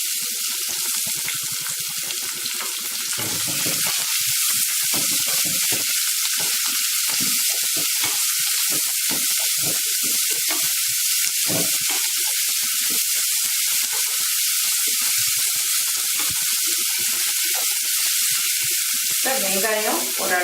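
Onion, curry leaves, garlic and ginger sautéing in hot oil in a pan for a baby potato fry, a dense, loud, unbroken hiss of frying heard up close for the whole stretch, without speech.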